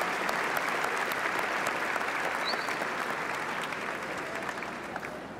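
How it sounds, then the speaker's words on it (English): A crowd at the 2017 Bryan Adams High School graduation ceremony applauds teachers and support staff, sustained dense clapping that gradually tapers off toward the end. "Let's give them a round of applause for their hard work."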